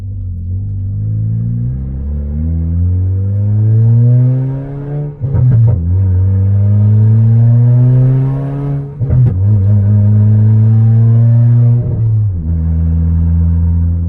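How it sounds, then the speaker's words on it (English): A turbocharged Toyota Corolla with a straight downpipe revs hard and loud up close, its deep engine drone climbing in pitch through each gear, broken by brief shift gaps and turbo whooshes. "you can literally hear all the turbo noises and everything coming from this car"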